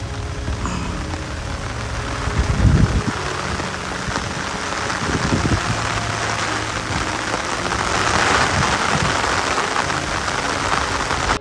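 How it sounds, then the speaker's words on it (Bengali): Heavy rain pours steadily in Lalbagh garden in Bangalore, a dense, close wash of falling water with a few louder rumbling bursts, continuous and with no voices. "বৃষ্টিটা কিন্তু বেশ জোরেই নামলো, আর আমরা আশ্রয় নিলাম এই বড় গাছটার নিচে।"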